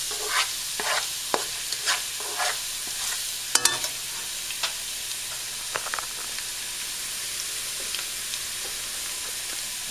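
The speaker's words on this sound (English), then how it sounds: "Give that a little stir." Green beans and other vegetables stirred in a hot frying pan, with a steady sizzle and hiss broken by scattered scraping clinks of the utensil against the pan; no talking.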